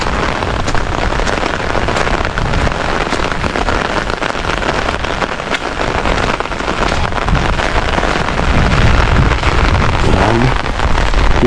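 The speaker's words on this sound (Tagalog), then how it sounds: "Lakas ng ulan." Heavy rain pours down steadily and loudly in a Philippine home setting, a dense continuous roar of drops hitting surfaces with no pause throughout.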